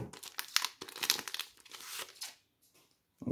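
A booster pack wrapper is torn open by hand, giving sharp bursts of crinkling and crackling plastic with brief pauses in between, close and clear.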